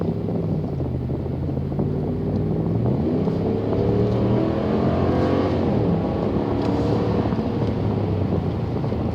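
Vehicle engine revving in race mode with a Roar pedal throttle controller fitted, a steady, continuous engine drone with shifting harmonic tones as the throttle is blipped, heard alone with some wind noise.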